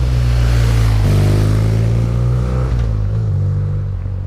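Motorcycle passing outside at close range, loud and continuous, with a strong low engine drone and harmonic whine that shifts pitch mid-pass before easing off as it moves away.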